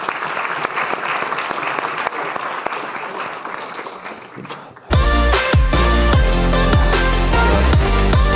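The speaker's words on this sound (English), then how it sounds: "I'd like to give a round of applause to the four great participants in this panel." Applause from a conference audience for a four-member panel on climate change and infectious diseases, a steady patter of clapping for about five seconds before loud music cuts in and takes over.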